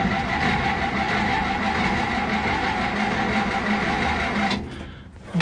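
A 1966 Dodge D100 Stepside V8 pickup engine cranking, a loud continuous mechanical churn that runs steadily for several seconds and then cuts off abruptly.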